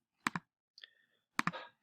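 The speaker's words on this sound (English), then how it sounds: "So I'd click those and hit next." Mouse clicks while stepping through Lumosity app setup screens: two sharp clicks close together, a faint soft chirp, then another quick pair of clicks, all close and alone with no talk.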